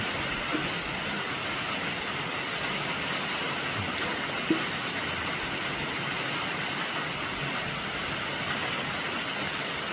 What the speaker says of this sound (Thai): มากับสายฝนหนาวหนาว ทั้งหนาวทั้งฝน